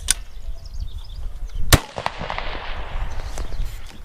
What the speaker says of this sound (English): We'll now move on to live fire with the 2 sighters and first 3 shots for record